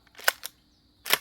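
A Browning A5 shotgun fired from the hip, heard as a few sharp, fairly close bangs or clacks spread over about a second, with quiet in between.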